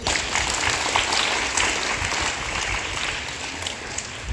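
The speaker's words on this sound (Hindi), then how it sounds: "इस बच्चे की जोरदार ताली होनी चाहिए।" A classroom of students at a Kendriya Vidyalaya school breaks into loud, dense applause for a classmate, clapping continuously for a few seconds with a slight easing toward the end.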